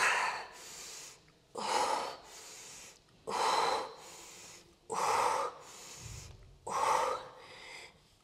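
Heavy rhythmic breathing during a Pilates wall exercise for the glutes, with five loud, close exhales in a steady cycle of roughly one every 1.7 seconds and quieter inhales between them.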